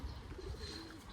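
Pigeons coo faintly at a horse stud farm, a soft, low, throaty call heard briefly from a distance.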